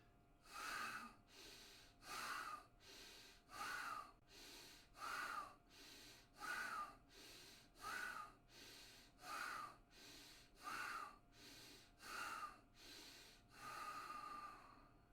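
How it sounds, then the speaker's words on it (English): Ten rapid, forceful Agni Sari pranayama exhalations through the nose, each a sharp breathy burst, spaced evenly about 1.4 seconds apart with quieter inhalations between, close and alone. "And then 10 Agni Sari exhalations."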